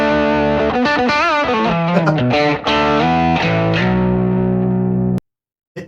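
Electric guitar played through a TubeScreamer overdrive pedal: a short phrase of sustained, overdriven notes and bends ringing loud and alone, ending abruptly in silence.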